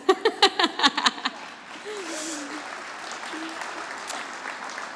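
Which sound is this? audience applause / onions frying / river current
audience applause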